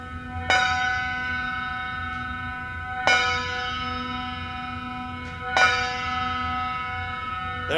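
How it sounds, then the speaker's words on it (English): A church bell tolls a slow funeral knell, three resonant strikes spaced about two and a half seconds apart, each ringing on with a long humming decay that fills the gaps. "a nearby church bell was tolling a funeral knell"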